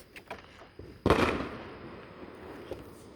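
A single loud firework bang bursts out after a moment of quiet, followed by a rumbling tail and a few faint distant pops.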